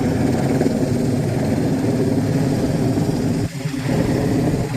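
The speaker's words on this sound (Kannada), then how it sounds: "ಹೆಲಿಕಾಪ್ಟರ್ ಸ್ವಲ್ಪ ಕೆಳಗೆ ಬರ್ತಿದ್ದಂಗೆ ಸ್ನೋ ಎಲ್ಲ ಹಾರ್ಲಿಕ್ಕೆ ಸ್ಟಾರ್ಟ್ ಆಯಿತು." A helicopter's loud, continuous rotor roar fills the air, steady and close, with a brief dip in the drone before it returns.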